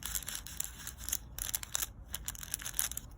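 Crisp, crinkly handling of textured paper, with irregular crunches and rustles close up and fairly quiet, no voices.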